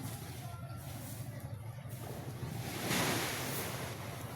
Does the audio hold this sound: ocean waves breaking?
yes